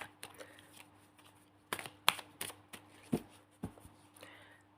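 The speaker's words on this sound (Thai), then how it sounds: "ยายขอแบ่งไพ่เป็นสองกองตามปกตินะมันจะได้เร็ว" Fortune-telling cards being shuffled and split into two piles: soft, close riffles and crisp slaps in irregular bursts, with faint ambient hum and no speech.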